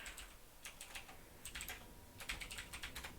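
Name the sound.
typing on a computer keyboard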